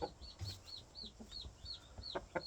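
A fighting rooster in training makes a run of short repeated clucks and chirps, fairly close and quiet, with light rustling and thumps between calls.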